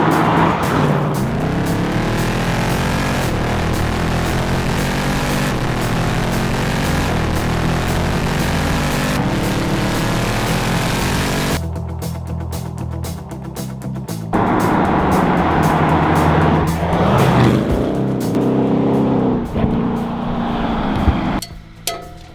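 A sixth-generation Ford Mustang GT with the optional sports exhaust and quad tailpipes, driving hard with a loud, rising and falling V8 roar through gear changes, a brief lull partway through, then accelerating again close up.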